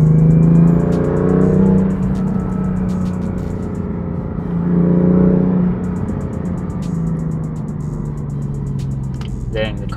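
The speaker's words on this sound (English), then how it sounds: "I hear a lot more induction noise. Like, I hear my turbos." Engine drone from inside a BMW F8x M2/M3/M4 on a cold day, with rising and falling turbo induction whoosh, a faint whistle at times, and voices talking over it.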